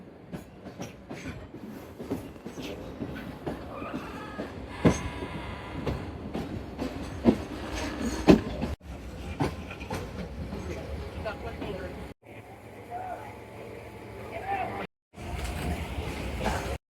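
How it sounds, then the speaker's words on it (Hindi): A Tezgam Express passenger train on the Multan to Lahore route pulls into a railway junction station, with a steady rolling rumble and clattering wheels, occasional squeals, and brief gaps in the noise. "अभी हम एंटर हो रहे हैं रेवेंट जंक्शन स्टेशन पे"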